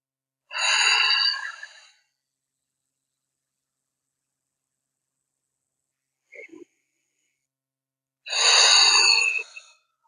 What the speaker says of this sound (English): Just take a second, we'll breathe here.